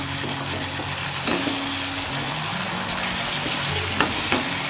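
Chilli chicken sauce with tomato sauce frying in oil in a pan, a steady loud sizzle running throughout, with a few soft clicks of the stirring spoon against the pan.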